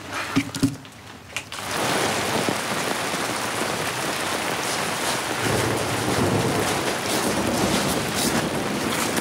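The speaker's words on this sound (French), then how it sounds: "Qu'est-ce que tu fais là sous ce déluge?" Heavy rain pours in a steady, dense roar that fills the outdoor scene, loud and unbroken after a brief quieter opening.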